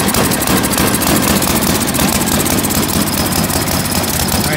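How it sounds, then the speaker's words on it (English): A Tecumseh 8-10 HP snow blower engine runs loud and close, a steady rough rumble with a rapid, even firing chatter that holds unbroken throughout. "So as it's running, you know, we're gonna let it warm up a little bit"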